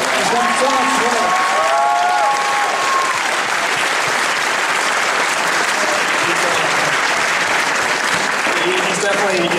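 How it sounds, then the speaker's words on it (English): An audience at an anime convention panel breaks into sustained, loud applause, a dense wash of clapping that holds steady throughout, with a voice briefly audible over it near the start. "I think Rob deserves an applause, definitely"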